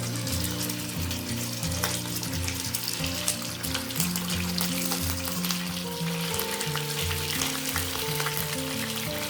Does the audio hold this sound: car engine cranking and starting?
no